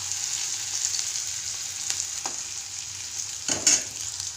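Onions, capsicum and tomato sizzle steadily in a hot pan, a constant hiss with a few faint clicks of stirring near the end.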